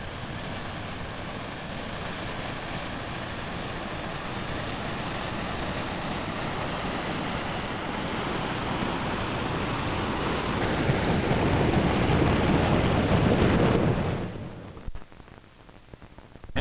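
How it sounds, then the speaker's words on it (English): A tidal bore from the Bay of Fundy advances up a river near Moncton in giant curving wave fronts, making a loud, steady, broad rushing roar that swells slightly before cutting off abruptly near the end. "the wave fronts advancing in giant curves across the river"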